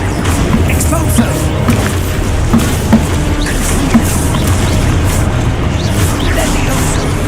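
The Exposo explosion spell in Hogwarts Legacy booms amid a dense, continuous wash of loud game effects, with a voice shouting over the din.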